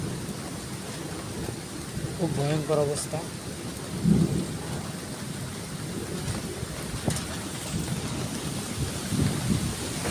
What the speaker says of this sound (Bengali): যেমন বাতাস সেমন ডাক, পুরো ভয়ঙ্কর অবস্থায় আছে।